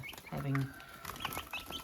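Chickens cluck close by in short bursts, a few clucks and murmurs overlapping, with a faint voice in the background.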